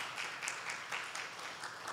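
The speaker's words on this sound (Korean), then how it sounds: "한해 박수 하겠습니다" A Sunday church congregation gives a short welcoming round of applause for visiting guests, a brief patter of many hands clapping at moderate volume.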